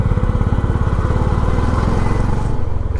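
A Honda CB350 motorcycle rides a mountain road in the Darma Valley, its engine thumping in a loud, steady, close rhythm throughout with no talk.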